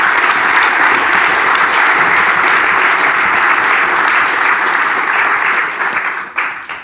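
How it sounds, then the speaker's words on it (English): Loud, dense applause from a lecture audience fills the room steadily, then thins and tapers off at the end; no talking. "a big applause for Roosje."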